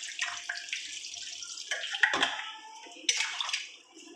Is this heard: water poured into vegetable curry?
yes